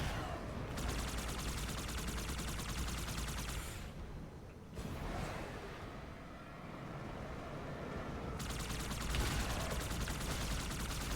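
Rapid automatic gunfire in the video game Halo 2 Anniversary, a dense continuous rattle of shots that briefly drops out and then resumes, heard fairly faint under a steady roar of game noise.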